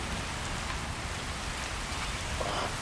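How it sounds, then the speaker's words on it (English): Steady rain falls in a video game, a soft, even hiss of drops that is fairly quiet and continuous with no other sounds. "God damn this bloody rain."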